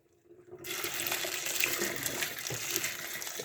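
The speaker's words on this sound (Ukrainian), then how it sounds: "виливаємо, беремо гарячу воду" After a brief quiet moment, dirty water is poured out of a home fish aquarium in a steady, splashing rush that continues without pause.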